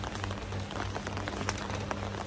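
Steady rain falls in a dense, even hiss of drops striking surfaces, with occasional louder splats and a low hum underneath, moderately quiet and continuous throughout.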